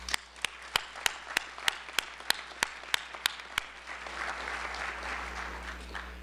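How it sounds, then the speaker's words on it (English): At a medical school white coat ceremony, a few loud, evenly spaced claps ring out in a quick steady rhythm, then a broader, softer wave of audience applause swells in over a low background hum. "I need us to give them an applause."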